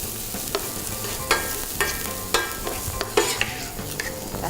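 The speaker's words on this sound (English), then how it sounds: "This just needs to saute for about a couple of minutes till the rawness of the garlic and the" Garlic and onions sautéing in a pan for muhammra dip, a continuous close sizzle with a spoon scraping and tapping the pan every half second or so.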